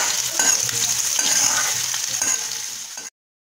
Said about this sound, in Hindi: लहसुन डाल दी हूँ, मिर्च भी डाल दी, अभी हल्का सा ब्राउन करूंगी लहसुन को।